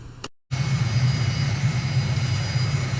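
Airplane engine held at full throttle for a takeoff roll on runway 24 at Har Cadaad, Somaliland, in Microsoft Flight Simulator, a steady loud low drone with a constant hum that starts after a brief gap and continues alone.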